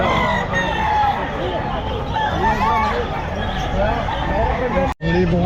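A young stag rooster crows loudly and close at a busy pet market in Calumpit, its call rising over constant crowd chatter and other fowl clucking, while people talk nearby.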